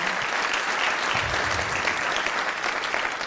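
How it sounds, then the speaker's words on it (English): Audience applause fills a White House town hall on fatherhood, a steady dense wash of many hands clapping at even loudness throughout, with no voices standing out. "Please give them a big round of applause"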